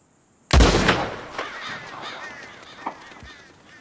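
A single sharp gunshot in Red Dead Redemption 2 cracks loudly, followed by a ringing echo and fading reverberation, with faint bird calls afterward.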